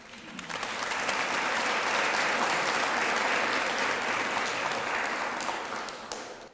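An audience at a Citizens of the Year ceremony breaks into sustained applause welcoming Commissioner Prizia, a dense, even wash of many hands clapping that swells quickly, holds steady for several seconds and tapers off.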